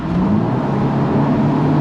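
A Mercedes-Benz SLC 300 Final Edition accelerates hard, its engine giving a steady rising drone with a whirring tone, heard from inside the cabin and sustained throughout.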